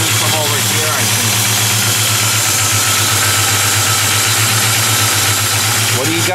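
A cold car engine idles loudly and steadily, with a low rhythmic slapping tick that could be valve noise or piston slap, running without a break from start to finish.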